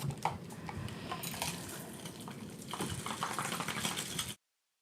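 A margarita being mixed, with ice and liquid clattering and rattling in a shaker or glass, followed by pouring over ice; busy close clinking continues throughout, then cuts off abruptly.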